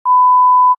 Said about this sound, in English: You get a little beep, beep, beep.